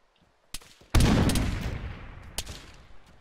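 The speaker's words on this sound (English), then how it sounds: "Frag out front, west." A frag grenade blast and gunfire in a military video game: a short crack, then a loud broadband explosion that decays over about two seconds, with another sharp shot near the end.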